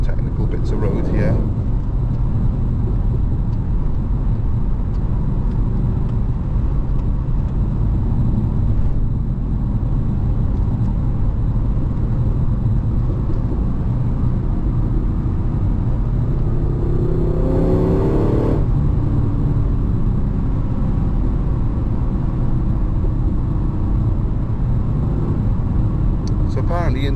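Vauxhall VXR8 GTS V8 engine and exhaust droning loud and steady from inside the car on a twisting Welsh road, valves shut in tour mode, with a brief rev swell midway and a voice talking over it at times.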